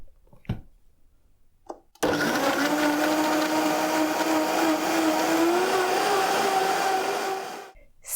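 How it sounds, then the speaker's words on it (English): Blender whirring continuously as it purees a garlic immune concoction of several ingredients, a loud steady motor drone of about six seconds that starts abruptly, holds with slight pitch shifts and winds down, with brief knocks beforehand. "All our ingredients are in our blender, and we just have to blend it."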